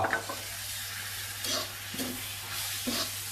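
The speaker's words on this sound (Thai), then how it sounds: "ก็ทำการคลุกเคล้าให้เข้ากัน ผัดให้เข้ากันนะครับผม" Field rat and sour bamboo shoots being stir-fried in a pan make a quiet, steady sizzle broken by a few soft scraping stirs at regular intervals.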